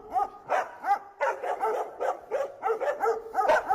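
A dog barks repeatedly in quick, uneven bursts, close and loud, some barks edging into yelps.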